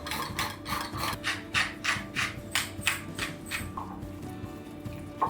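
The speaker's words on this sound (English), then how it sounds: "We're just gonna combine our parsley, salt and pepper, and the zest of a lemon in with the ricotta and then mix it all together." Ricotta filling with parsley, salt, pepper and lemon zest being stirred in a bowl, a steady run of rhythmic scraping strokes, close and moderately loud, with no talking.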